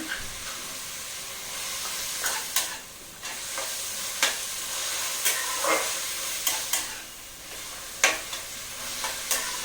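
Peanuts fry with a pinch of turmeric, tomatoes, onions and green chillies in a pan for uggani, a constant sizzling hiss with sharp, repeated scrapes of a spatula stirring at irregular intervals, heard up close without speech.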